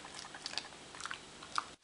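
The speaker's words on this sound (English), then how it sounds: "thought we should show you that it's Maddie chewing on a rawhide and not a problem with your computer" A dog gnaws on a rawhide chew in the background, giving soft, irregular crunching and biting clicks at moderate distance, with no voices.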